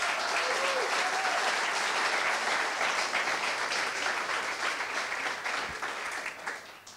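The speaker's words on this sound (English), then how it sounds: "we should give them a big round of applause" A crowd at a coding bootcamp demo day in Amsterdam gives loud, sustained applause, a dense, close wash of many clapping hands that holds steady and then tapers slightly near the end.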